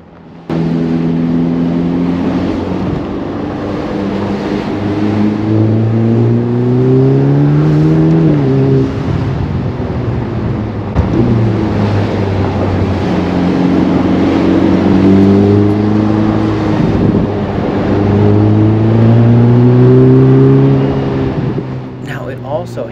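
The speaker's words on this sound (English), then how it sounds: "they've adjusted some things a little bit to go just that little bit more aggressive engine tone" A 2022 Ferrari Portofino M engine revs hard on the road with the top down, rising and falling through repeated gear pulls up close, loud and aggressive, with a voice talking over parts of it.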